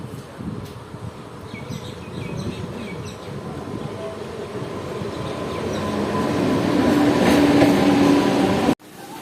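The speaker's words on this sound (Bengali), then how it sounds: "RCF মেমু চলে এলো আমাদের 2 নম্বর প্ল্যাটফর্মে" An RCF MEMU train pulls into platform 2 of a station, a rolling, rattling rumble that grows steadily louder and then stops abruptly.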